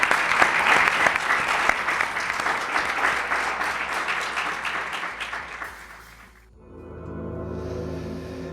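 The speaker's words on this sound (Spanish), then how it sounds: "de nuestra parte este cálido aplauso para vosotros" Warm round of audience applause, dense clapping that fades out over several seconds before giving way to a quieter, tonal background.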